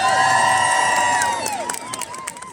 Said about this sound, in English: Big round of applause for somebody making history, our Lord Mayor Hamza.